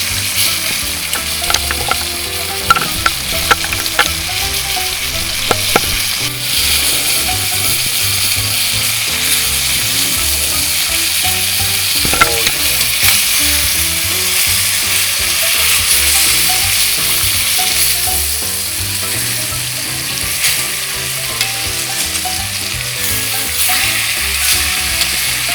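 Chicken for lemon piccata fries in a pan with a loud, constant sizzle and crackle, and a few sharp clicks and scrapes near the start.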